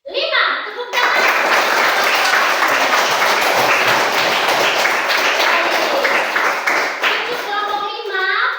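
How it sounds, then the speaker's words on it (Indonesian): A classroom full of people bursts into sustained applause and clapping lasting several seconds, with children's voices audible at the start and end. "Tepuk tangan."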